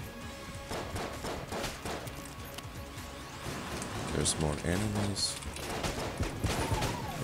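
Rapid gunfire and explosions from the bullet-hell video game Enter the Gungeon, with steady clattering shots and a heavier blast partway through, while a person talks over the action.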